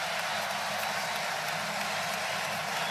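A basketball arena crowd applauding and murmuring, a steady, fairly faint wash of clapping and crowd noise that holds evenly throughout with no standout voices.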